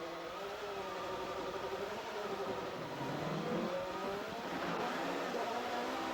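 BMW touring cars launching from a race start on a wet, slippery track, a dense roar of engines revving and building in pitch as the field pulls away, heard from a distance with a steady hiss beneath.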